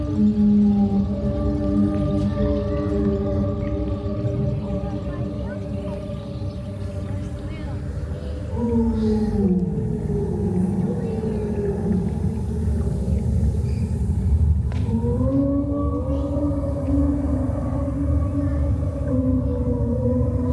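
Long, low whale calls played through speakers in a New York City exhibit, sliding tonal moans that rise and fall over a steady room rumble, with brief talk now and then.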